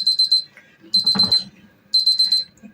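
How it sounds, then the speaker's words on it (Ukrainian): A kitchen timer beeps in three quick bursts of rapid high chirps, evenly spaced about a second apart, close and clear. "Все, спрацював таймер."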